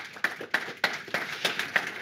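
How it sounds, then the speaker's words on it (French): A small audience at a round-table discussion gives sparse, faint applause: about half a dozen separate claps, spaced out and irregular, in an otherwise quiet room. "avec un public qui peut s'applaudir"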